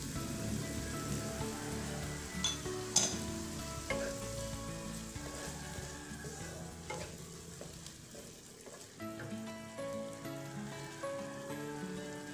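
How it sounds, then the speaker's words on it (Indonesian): Leftover pasta cooking water splashes into a hot pan of small diced zucchini, setting off a steady, close sizzle and bubbling with light stirring scrapes throughout, no voices. "Tuangkan lagi sedikit sisa air rebusan pasta"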